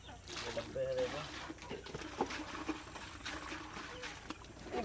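Water poured and sloshing while dirty chicken water containers are washed by hand on a poultry farm: uneven trickling and splashing close by, under someone talking.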